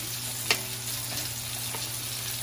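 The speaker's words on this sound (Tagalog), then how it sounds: "Sibuyas. Sisulang po natin." Chopped onion sautéing in a pan while cooking Filipino dinuguan, a steady soft sizzle with one brief clatter near the start and no talking.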